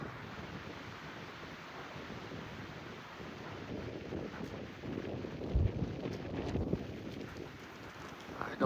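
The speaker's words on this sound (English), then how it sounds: "It is so windy." Strong wind gusts buffet the microphone in a low, rumbling roar, with surf-like rushing swelling louder toward the end.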